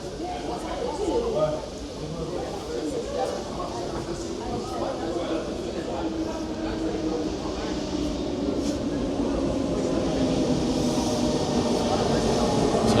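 A double-decker commuter train in Paris rumbles steadily nearby with a low rolling roar that builds slightly toward the end, while someone talks over it.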